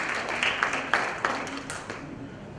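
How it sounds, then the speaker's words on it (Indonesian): An audience at a conference on media and social inclusion claps briefly, a scattered patter of hands that fades out over a couple of seconds. "Mari kita beri tepuk tangan terlebih dahulu."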